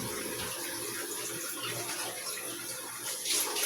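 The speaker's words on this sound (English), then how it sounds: "you can get away with cleaning your dishes with just plain water and a wash rag" Plain water running from a tap as dishes are rinsed with a wash rag in a home kitchen sink, a steady close splashing flow that swells a little louder near the end.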